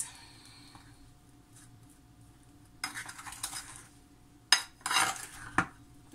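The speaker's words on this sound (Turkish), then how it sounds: "Ben bunu güzelce karıştırayım." Stirring a tiramisu ball mixture in a bowl in a home kitchen: a quiet stretch, then scraping and clinking bursts of a utensil against the bowl, loudest in short clusters near the end.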